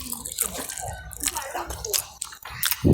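Crab stick dumplings being eaten up close, with wet chewing, biting and smacking sounds at an uneven rhythm, fairly loud and intimate.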